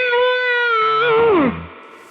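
A single sustained, buzzy digitally distorted guitar note from an Eventide H9 effects pedal rings out, then bends downward and fades away.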